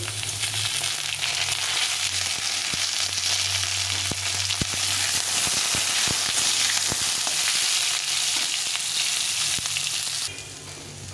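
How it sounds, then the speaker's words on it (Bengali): Pieces of eggplant and potato fry in a pan of hot oil for a greens dish, giving a steady, loud, close sizzle with occasional sharp clicks of stirring that drops slightly near the end. "বেগুন আর আলুটা ভেজে নিচ্ছি সুন্দর করে"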